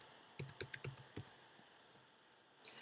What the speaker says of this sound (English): you would use this search field above and begin typing Newsletter